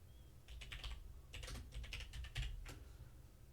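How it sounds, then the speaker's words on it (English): Rapid, uneven keystrokes on a computer keyboard in bursts of clattering taps, fairly close and moderately quiet, with a faint low hum underneath and no talking. "You can hear me typing away. I still can't type properly on this keyboard."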